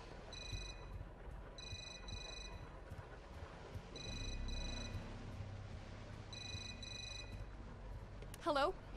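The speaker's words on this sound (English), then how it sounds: "The sound for the phone sounds like it's like through the wall over there." A telephone rings upstairs in the survival horror game Suffer The Night, giving four muffled bursts of electronic trilling in an even rhythm, faint and distant as if through a wall, with a voice talking underneath.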